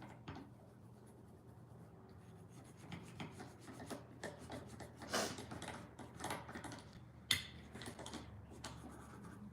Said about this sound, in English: I'm just gonna take this and start scrubbing away